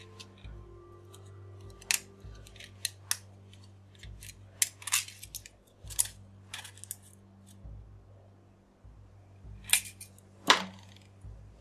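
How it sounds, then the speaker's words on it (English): Dull scissors snip through thin aluminum sheet in sharp, irregular clicks and crunches, quiet and close, with pauses between cuts over a faint low hum. "Fold a piece of aluminum in half, then cut to shape."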